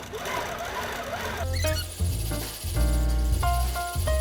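A sewing machine thread-paints a leaf on a quilt. Bursts of rapid, whirring stitching start and stop several times, loud and close.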